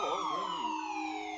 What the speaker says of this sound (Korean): 사이렌 소리가 요란하게 들려왔습니다.